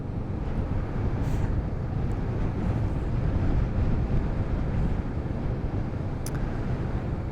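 Strong wind at a gravel cemetery in Gawler buffets the microphone with a constant low rumbling roar, steady throughout with no voices.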